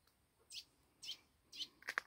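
An egret calls faintly in a series of four short, sharp calls, spaced about half a second apart against quiet surroundings.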